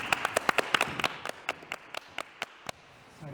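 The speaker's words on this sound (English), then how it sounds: "We give her a round of applause" Sparse, scattered handclaps from a few people at a fashion panel discussion, quick bursts that thin out into isolated claps over a few seconds, fairly quiet and close.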